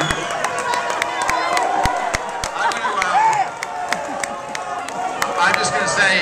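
A crowd at a live event screams, cheers and claps in a continuous loud roar. Sharp individual claps and shouts stand out against the dense noise, which holds steady throughout.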